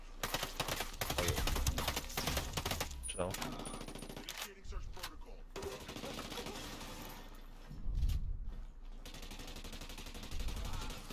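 Rapid bursts of automatic gunfire in Ghost Recon Breakpoint, dense and continuous at times with brief pauses, with players talking over the shooting.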